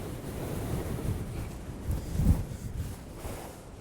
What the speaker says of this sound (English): Whoa, this wind is gnarly, man.